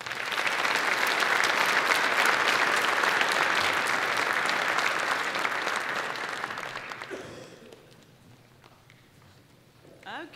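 An audience applauds to welcome Vice Admiral Nora Tyson at a keynote: loud, sustained clapping from a large crowd for about seven seconds, then fading to scattered claps and quiet.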